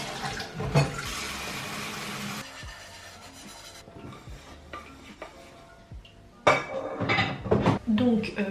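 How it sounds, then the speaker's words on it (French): Dishes are washed by hand under a running kitchen tap, with water rushing and plates, pans and cutlery clinking and scraping close by. The flow stops briefly partway through and then gushes again. "nous allons faire la vaisselle"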